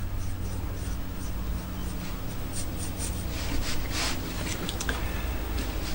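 A pencil scratches steadily on paper while sketching a cartoon Woody, making a close, continuous rubbing sound with short strokes and slight swells as lines are drawn.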